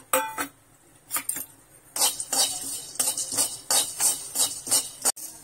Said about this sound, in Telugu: పుట్నాల పప్పు కూడా లైట్ గా ఫ్రై చేసేసుకుందాం ఆయిల్ లేకుండా